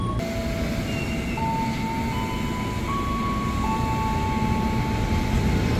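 A KRL commuter train pulls into platform 2 at Duri station, a steady low rumble with drawn-out tonal whines and squeals shifting in pitch across the whole stretch, loud and continuous, with no voices.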